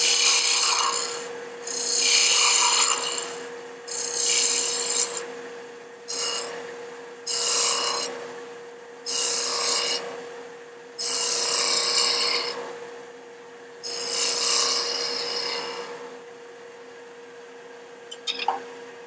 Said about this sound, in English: I'm going to go with my 3/8 inch deep fluted tool.